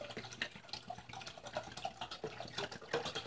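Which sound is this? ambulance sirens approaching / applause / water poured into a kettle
water poured into a kettle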